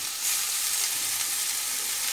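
Steamed spinach hits a pan of fried onion and garlic, giving a loud, even hiss of sizzling oil that holds steady for about two seconds.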